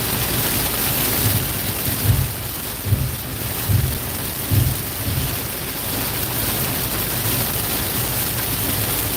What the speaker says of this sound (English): the heavy rain is extending north with these storms